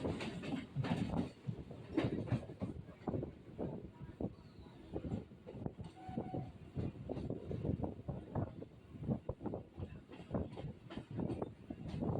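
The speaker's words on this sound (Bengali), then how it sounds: "এখন ট্রেন বারাসাত স্টেশনে ঢুকছে" A passenger train on the Dum Dum–Hasnabad line in West Bengal rolls into Barasat station, with steady rumbling and clickety-clack of the wheels and some wind noise throughout, fairly loud and continuous with no talk.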